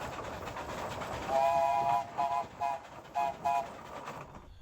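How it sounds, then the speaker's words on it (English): An 18-inch gauge narrow gauge tourist railway train run by volunteers at Semaphore and Fort Glanville sounds a series of short whistle blasts, one longer toot then four quick ones, over a steady rumble of running noise. "We now find ourselves at the Semaphore and Fort Glanville Tourist Railway"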